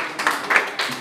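Brief bursts of clapping from a small group at a graduation celebration with a mariachi band, a second or so of scattered handclaps rising and falling.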